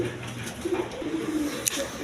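Satin pigeons at a wholesale pigeon seller's, cooing in low rolling bursts over a steady background, with a sharp clatter near the end.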